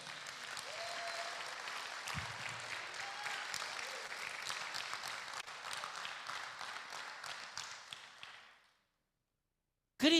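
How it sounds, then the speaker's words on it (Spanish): A church congregation applauds during a sermon, a sustained wash of clapping with scattered sharper claps and some shouts, fading out near the end before a brief loud sound cuts in. "Dele un fuerte aplauso a Él."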